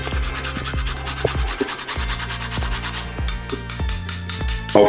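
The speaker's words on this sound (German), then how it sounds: "Dann haben wir Muskat, frisch gerieben." Fresh nutmeg grated by hand in a kitchen, a steady run of close, rhythmic raspy scrapes repeating at an even pace.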